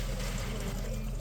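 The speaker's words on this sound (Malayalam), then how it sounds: "ഊറ്റുകയാണേ." Water being drained off cooked ada, rice flakes for Kerala ada pradhaman, running as a steady continuous pour with no breaks.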